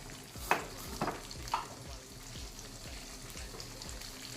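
Three beaten eggs sizzle softly in a pan while a utensil scrapes and stirs them in a steady rhythm of clicks and scrapes, fairly faint and with no voices.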